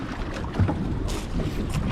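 Wind over open water during a spearfishing boat trip, a steady, loud rushing roar with low buffeting gusts against the microphone and faint splashy swells, continuous throughout.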